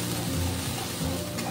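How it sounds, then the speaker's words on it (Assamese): Chopped leafy greens fry in a hot pan with panch phoron and a chilli, giving a loud, continuous close sizzle with soft stirring scrapes throughout and no talking. "অকণমান ভাজিম, তাৰপিছতহে মই পানী দিম।"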